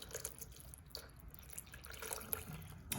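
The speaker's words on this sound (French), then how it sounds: "Alors, on verse les bouillons de légumes." Vegetable broth poured into the pot of a Monsieur Cuisine kitchen machine while making a vegan dish: soft, faint splashing and trickling liquid with a few clinks, fairly quiet and close.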